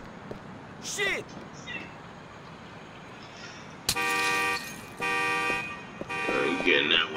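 Car horns honk in Grand Theft Auto IV, several loud sustained blasts in the second half following scattered quieter street noises, with a voice talking briefly early on.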